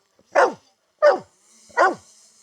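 A farm dog barks three times at a drone hovering overhead, each bark sharp and close, evenly spaced about a second apart, with a faint steady hum of the drone behind.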